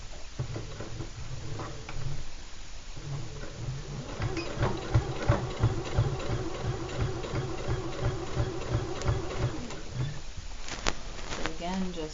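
Close-up sewing machine stitches a quilted casserole cozy in a steady, rapid mechanical patter lasting several seconds, with a voice talking over the whirr.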